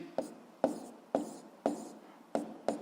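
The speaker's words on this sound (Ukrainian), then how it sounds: "Давайте я тут напишу" Someone writes on a board during a physics lesson, making six distinct, fairly close strokes and taps in an uneven rhythm, with no talking.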